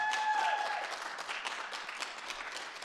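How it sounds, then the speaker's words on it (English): A city audience applauds its finance department at a State of the City address: a faint, distant burst of crowd clapping that slowly fades, with a brief feedback-like tone at the start. "Can we give our finance department a big round of applause?"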